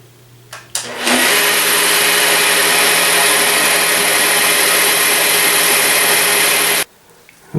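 A polisher with a white foam finishing pad runs on a quartz surface, spinning up abruptly into a loud, steady high whine that holds for several seconds before cutting off.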